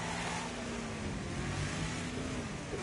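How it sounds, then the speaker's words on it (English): In the Wreckfest racing game, a car engine drones and revs steadily, a loud continuous motor hum with a shifting pitch and no talk over it. "It actually sounds like 3 different supercars in one."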